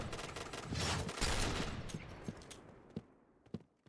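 Gunfire in the PUBG video game: a dense rapid fusillade of automatic shots that thins into a few scattered single shots as the noise fades.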